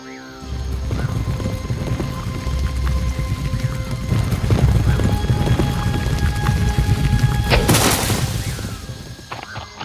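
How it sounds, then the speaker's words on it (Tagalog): A horse gallops toward a crossing with a steady, close clip-clop of hooves under a fairy-tale score, followed by a brief whinny and a rushing swell near the end. "Sumakay siya sa kanyang kabayo at tumakbo patungo sa Mile Cross ng mabilis."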